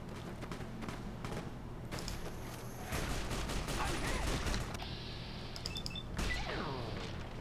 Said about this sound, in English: Is that gunfire?